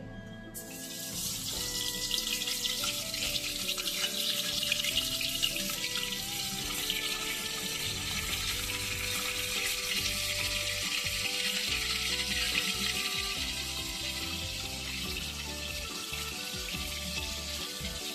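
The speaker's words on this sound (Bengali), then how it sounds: "এবার মাছটা ভেজে নেব আমাদের তেলটা প্রায় গরম হয়েই গেছে এবার একে একে আমরা মাছগুলো দিয়ে দেব" Katla fish pieces fry in hot oil in a pan, giving a loud, continuous hiss and crackle that starts after a brief quiet moment and holds steady throughout, close by.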